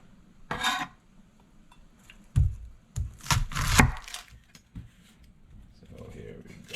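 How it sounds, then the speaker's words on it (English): Kitchen prep with an onion on a cutting board, several knife knocks and clatters on wood in short bursts, with some handling noise in between and a person talking faintly at times. "We need to cut an onion up here."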